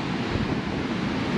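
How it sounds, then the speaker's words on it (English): Ocean waves wash onto a black sand beach on Hawaii's Big Island, a steady, close rush of surf with wind noise and no pauses. "This is the coolest beach I've ever been in my life."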